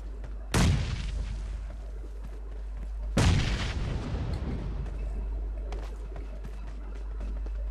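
Two heavy grenade blasts in PUBG Mobile, a sharp close boom followed about two and a half seconds later by a second, each trailing off into a long rumbling decay.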